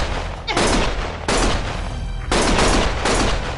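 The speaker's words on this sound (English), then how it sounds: "Stop shooting!" Gunfire in the video game Lost Judgment: loud, dense bursts of rapid shots in three or four sustained volleys with brief gaps between them, close and harsh.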